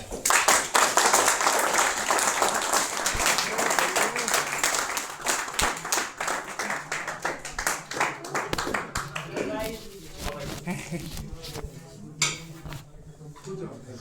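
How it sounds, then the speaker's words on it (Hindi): Applause and clapping from trainees at an SCBA breathing-apparatus training session, dense and loud at first, then thinning into scattered claps with clinking and voices talking over it. "जोरदार तालियां।"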